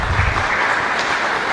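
A chapel congregation at Holy Mass in Luque applauds the youth group: a dense, steady wash of many hands clapping at close range that lasts about a second and a half.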